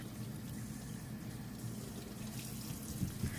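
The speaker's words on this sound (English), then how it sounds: "We want to allow the water to flow from the top of our forearms to our fingertips" Water runs from a tap during a hand-washing demonstration, a steady, faint rushing stream with a few soft splashes near the end and no talking.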